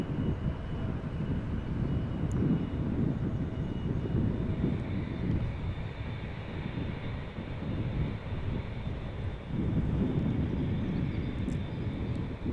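An airplane at Amsterdam Schiphol Airport, with a steady, powerful engine roar and rumbling jet noise that swells and fades slightly over a long stretch, with no voices.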